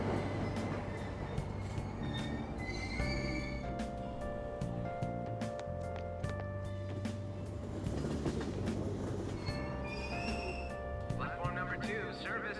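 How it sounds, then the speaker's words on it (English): A train pulls out of a station in the video game Persona 5 Royal, with a steady rolling rumble and sustained tonal hums running throughout and voices heard over it. "Platform number 2, service to Asakusa is departing soon. Please watch your step. Train doors are now closing."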